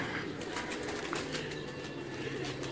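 Pigeons coo steadily on a Lahore rooftop where fancy pigeons are kept, a continuous low murmur of several birds close by with occasional wing flutters and calls, no talking.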